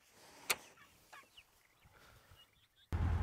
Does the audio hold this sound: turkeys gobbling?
yes